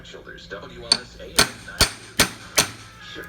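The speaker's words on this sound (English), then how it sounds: "These cheap hammers, it's got that thing on the top there, you can pound it in, I suppose." Cheap hammer pounding, five loud sharp strikes close by in a fairly even rhythm, with faint background noise between the blows.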